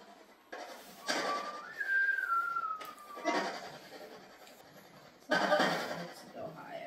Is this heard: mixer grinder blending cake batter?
no